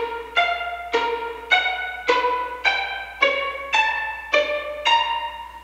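Nine short plucked pizzicato string notes played in GarageBand, each a crisp attack that fades quickly, spaced in an even, steady rhythm with no voices.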